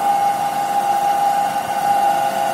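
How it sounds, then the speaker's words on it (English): A DC shunt motor on a load test bench runs steadily at its rated 1500 RPM, giving a constant, loud, even hum and whine with no talk. "Now we will adjust the field rheostat to run the motor at the rated speed 1500 RPM."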